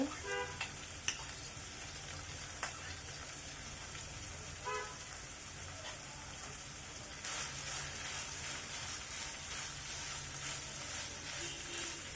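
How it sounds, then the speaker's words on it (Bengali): Half a cup of chopped onion frying in a pan while cooking chicken toast, a continuous hiss of sizzling oil with occasional stirring clatters and faint background noise throughout. "এখন দিয়ে দিব পেঁয়াজ কুচি"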